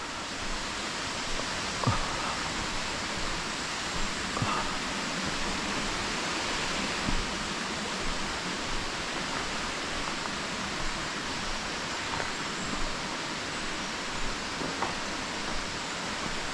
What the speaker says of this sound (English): there's a little set of waterfalls coming down past that outbuilding there